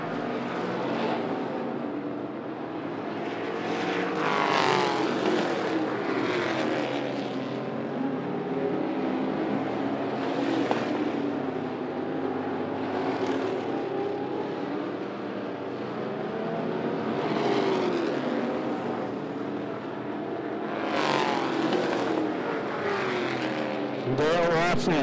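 Street stock race cars roar around 411 Motor Speedway, engines droning and swelling as the pack passes, heard at a distance under a race announcer's continuous commentary.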